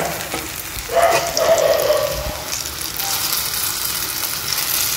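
A pan of pea filling, sweetened slightly, is stirred and dried over the heat for a winter Bengali dish, giving a steady soft sizzle and hiss with faint scraping and no talking.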